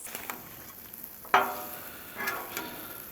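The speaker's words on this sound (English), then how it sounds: "I might add a little bit of olive oil to this shrimp and give it a good stir" Shrimp frying in olive oil on a Blackstone griddle, a quiet sizzle broken by a sharp scrape and stir partway through, with softer stirring clicks after.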